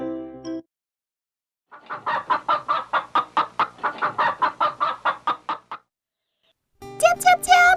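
A family of chickens from an animated children's folk tale cluck in a quick run of about a dozen short, even bursts, with brief music and voices at the start and end.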